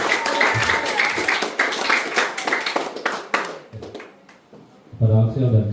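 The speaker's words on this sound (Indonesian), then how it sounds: "Mari kita beri aplaus untuk pelaksanaan kegiatan." Audience applause at a school closing ceremony of a seminary junior high school in Langgur, a dense wash of clapping that thins out midway and swells again near the end, with a voice speaking over parts of it.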